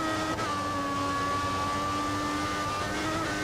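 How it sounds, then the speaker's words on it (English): Formula One car engine in the F1 2014 racing game, a steady high whining drone held at constant pitch throughout, loud and continuous with no talking over it. "I don't think I've seen a comment today saying how horrible the engine sound is"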